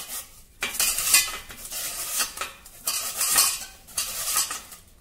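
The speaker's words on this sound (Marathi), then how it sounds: "इथे या प्रकारच्या जाड छिद्राच्या किसणीवर आता आपल्याला बटाटा किसून घ्यायचा आहे" Raw peeled potato rubbed against a coarse grater, in steady rhythmic scraping strokes about once a second, close and fairly loud with no talk.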